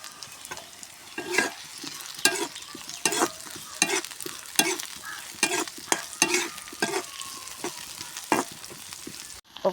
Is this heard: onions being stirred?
yes